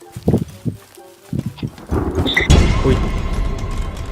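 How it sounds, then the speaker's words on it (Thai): Thunder rumbles inside The Forest survival game as a storm rolls in, a low broad roar swelling after a few scattered knocks and thumps and holding steady to the end. "ฝนจะตกอีกฟ้าร้องด้วย"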